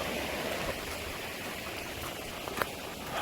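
A continuous, even rush of a flowing stream on the Silau-Silau Trail at Mount Kinabalu fills the clip, a steady broadband wash with a faint splash or two and no voices.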